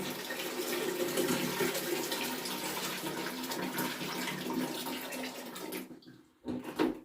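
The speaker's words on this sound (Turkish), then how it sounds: "Bakın su ne kadar aktı? Bayağı akıyor görüyorsunuz." Water gushes steadily from an opened combi boiler filter on a home heating system, a continuous close splashing flow that cuts out briefly near the end, then spurts again.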